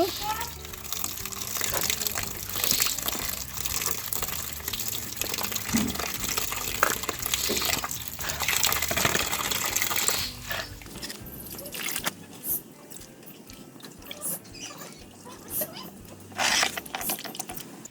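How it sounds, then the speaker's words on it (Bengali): Running water pours steadily while moringa leaves are washed in a kitchen, a continuous splashing rush that eases off partway through and gives way to intermittent handling sounds. "সাজনা পাতা ভালো করে ধুয়ে নিব"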